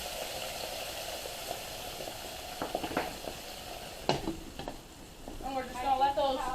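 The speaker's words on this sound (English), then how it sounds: "we're just going to let those fry until they're ready, obviously" Battered bluegill fillets fry in hot oil with a steady low sizzle, broken by a few clinks and stirring sounds and a brief bubbling burst near the end.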